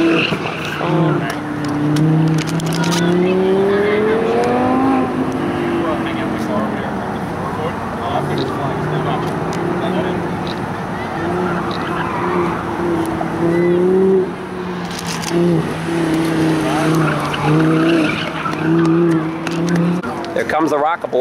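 Ferrari driven by a grandfather on a South Philly street, its engine revving with rising and falling pitch sweeps, fairly loud and close, while people talk over it.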